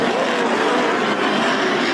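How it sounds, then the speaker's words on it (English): NASCAR stock cars on track during a Wednesday warm-up session at the Shed, including the 22 Maxwell House car and the 42, producing a continuous dense roar of engines with no gaps, steady and fairly loud throughout. "Next is Sterling Marlin in the 22 Maxwell House car and the 42 of Kyle Petty."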